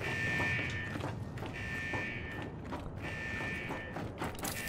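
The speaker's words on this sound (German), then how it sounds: "Der Alarm, Alarm." An alarm in the video game Gears 5 sounds as a repeating electronic tone, each about a second long with short gaps, over a steady mechanical rumble and creaking.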